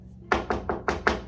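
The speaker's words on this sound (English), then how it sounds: "knocking on her door" Five firm knocks on a college dorm room door, evenly spaced and close, dull thuds rapped by a knuckle, with no talking over them.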